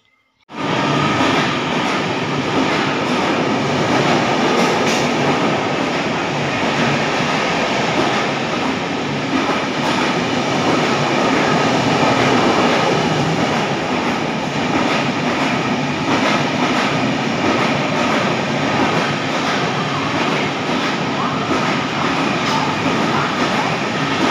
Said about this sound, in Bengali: এখানেই আসছে আমাদের ট্রেন 13053 হাওড়া থেকে রাধিকাপুর কুলিক এক্সপ্রেস